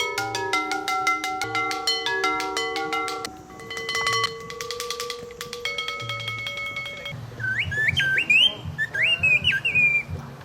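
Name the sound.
bird singing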